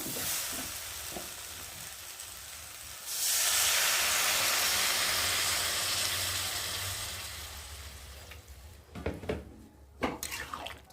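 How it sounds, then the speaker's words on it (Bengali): Water poured into a hot pan of jackfruit curry sets off a sudden loud hiss that slowly fades into a simmering sizzle, followed by the clatter of stirring near the end. "আর এখন আমি জল দিয়ে দেবো"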